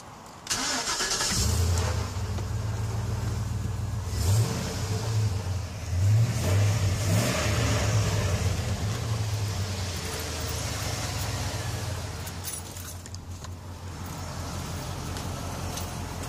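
Peugeot 307 engine cranks and starts, then settles into a steady idle with a few blips of revving, close and fairly loud with no talk over it.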